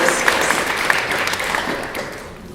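An audience claps loudly, a dense burst of applause that gradually tapers off toward the end.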